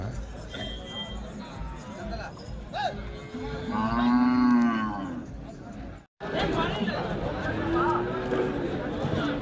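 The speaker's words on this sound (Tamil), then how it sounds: "நல்லா தரமான மாடுங்க ஏர் மாடு வண்டியை ஓட்டிக்கலாம் பெரிய சைஸ் மாடுங்க" Cattle moo loudly and repeatedly amid a busy crowd of chattering voices, with a steady murmur of people and animals all around, at a livestock market in Vaniyambadi.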